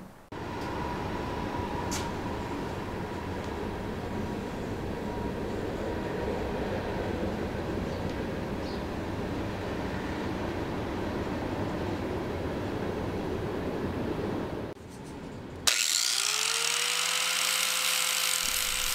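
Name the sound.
flap disc grinding a metal antenna tube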